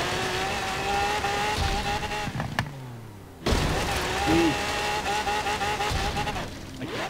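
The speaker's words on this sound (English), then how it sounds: "As you crash into the wall." A car crashes into a wall in the racing game Forza Horizon 3, with a sudden broadband impact breaking through steady engine drone, then the engine roaring back up. Close and loud, over a game soundtrack.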